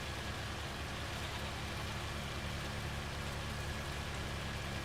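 Heavy rain in the Farming Simulator 25 video game gives a steady, dense hiss of downpour, even and unbroken, with a faint low rumble beneath and no talk.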